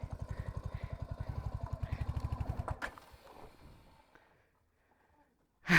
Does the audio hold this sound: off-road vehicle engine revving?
yes